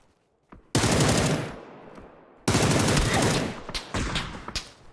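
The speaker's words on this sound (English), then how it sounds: "That was a headshot across the goddamn map." Bursts of automatic gunfire ring out in PUBG, two long loud volleys with scattered sharper shots trailing after, including a headshot fired from across the map.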